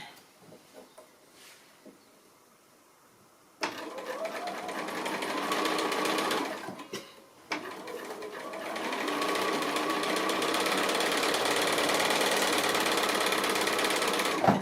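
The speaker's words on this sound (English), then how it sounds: "I've sewn my two together. So the chain piecing is a great option if you're making lots of these." Sewing machine chain piecing 60-degree quilt diamonds, running in long steady stitching bursts after a brief pause near the start, close and fairly loud.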